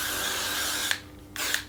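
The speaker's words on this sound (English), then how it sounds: "use my Got2b glued blasting freeze spray" A can of Got2b Glued Blasting Freeze hair spray hisses in two bursts, one long steady spray close by, then a short pause and a second brief spray.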